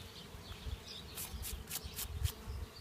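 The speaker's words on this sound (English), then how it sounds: "I find it best to sweep the bees off in quick motion" Honey bees buzz close by as they are swept off a hive frame during a honey harvest, a soft steady hum broken by several quick, sharp brushing strokes.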